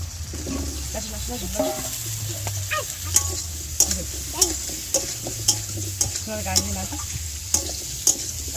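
Chopped potatoes hit hot oil in a pan for okra and prawn curry, giving a continuous sizzle. Sharp stirring clicks and scrapes repeat at regular intervals, and faint voices murmur in the background.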